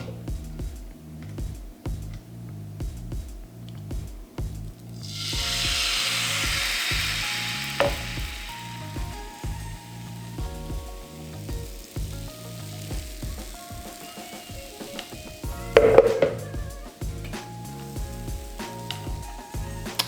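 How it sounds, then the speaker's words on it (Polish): Gluten-free vegan pancake batter hits a hot oiled pan and a bright sizzle swells up, then slowly fades to a soft crackle over steady background music. "Rozgrzaną patelnię wlewam ciasto."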